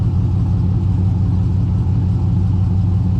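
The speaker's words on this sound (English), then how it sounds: "Get some exhaust sound here." A car engine runs with a loud, steady low exhaust rumble, holding an even idle throughout with no talking.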